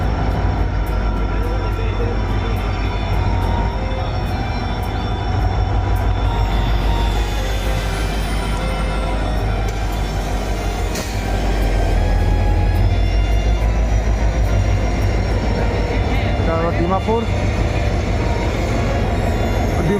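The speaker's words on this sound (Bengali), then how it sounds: "WDP-4D ইঞ্জিনের সাথে আসছে" A Dimapur–Sairang special train hauled by a WDP-4D diesel locomotive arrives at Hailakandi railway station, with a loud, continuous rumble of engine and rolling wagons that swells and persists for twenty seconds.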